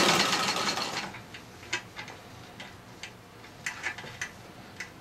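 A Singer Model 15-91 sewing machine stitching through thick patchwork seams for a flat cap, with a quiet whirring start followed by soft, irregular mechanical ticks.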